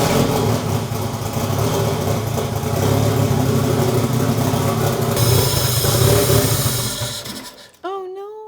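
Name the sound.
LS V8 engine in Honda Civic starting and idling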